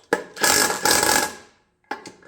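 A 3/8-inch drive ratchet snugs down valve cover bolts on a Toyota 3.4L 5VZ-FE V6 engine, with two close, loud bursts of rapid clicking followed by a brief pause and a third short ratcheting burst.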